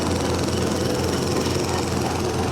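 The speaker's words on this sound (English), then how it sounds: "This handle engages power to a shaft that runs out the other end of the machine." A 95-year-old Kwik-Way grinder runs with power engaged to its drive shaft, giving a steady, loud broadband mechanical drone with a low rumble that holds unchanged throughout.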